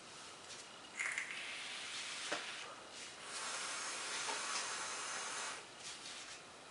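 Long exhale of vapor from a vape running a .35 ohm cloud-chasing build, a close, breathy hiss rising at about one second and swelling into a steady rush before fading out near the end.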